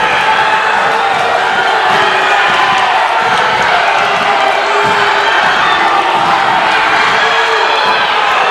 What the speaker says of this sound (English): Crowd is up off their seats.